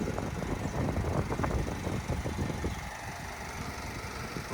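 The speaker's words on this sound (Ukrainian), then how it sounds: "Тут можна почути, як працює авто." A 2013 Opel Vivaro 2.0 diesel van engine idles close by with a low rumbling drone and faint rhythmic knocking, continuous throughout with no talking.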